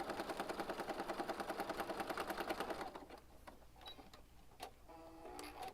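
A sewing machine stitches across a planner journal cover, with a fast steady mechanical chatter for about three seconds that then stops, followed by scattered quieter handling clicks and rustles, close by and with no talking.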